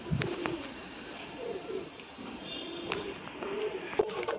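Pigeons coo in a loft, soft low throaty calls repeating close by, with a few sharper chirps and light rustling throughout.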